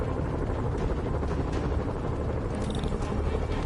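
Helicopters flying nearby in a Spider-Man video game, a steady loud rotor drone that holds throughout with no voices over it.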